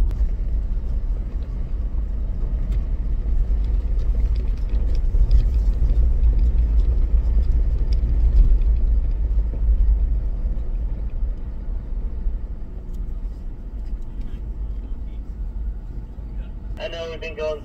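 A Ford Bronco crawls slowly off-road in four-low at a Las Vegas, Nevada off-road course, giving a steady low engine and drivetrain rumble throughout, with a voice talking over it for much of the time.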